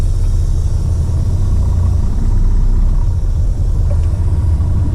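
Cab of a new-style Peterbilt truck running empty on the road, a low steady engine rumble with road noise and no talk.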